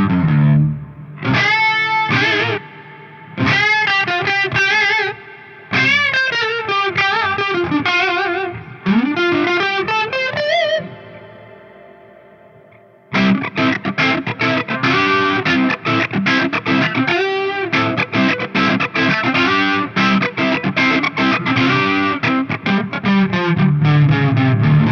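Electric guitar played through a Neunaber Expanse effects pedal set for chorus and reverb, with short picked phrases and ringing chords, a gliding bend, a brief pause, then dense, shimmering strummed chords with a wide, washy tail.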